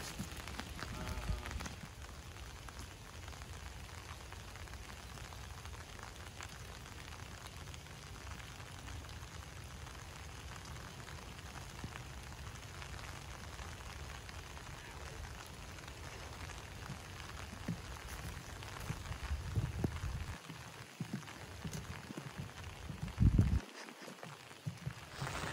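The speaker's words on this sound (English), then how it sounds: "it feels like the rain let up a bit." Soft, steady patter of light rain, a faint even hiss with scattered drops, growing a bit louder and more uneven near the end.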